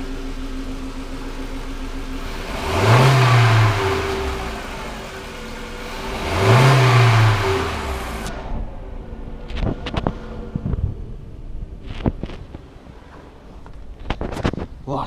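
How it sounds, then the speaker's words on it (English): Two sharp engine revs rise and fall from a 2014 Volkswagen Jetta 2.0L with a leaky fuel injector causing a cylinder 2 misfire, loud and close over a steady idle, followed by scattered clicks and handling noises. "A couple snap throttles."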